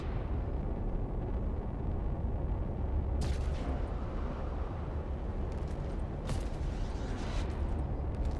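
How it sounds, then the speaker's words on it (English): Cannon fire in a space-combat video game, a dense, loud rumbling barrage of booms with a few sharper blasts standing out over the steady roar, no talk. "There's such cannon noises."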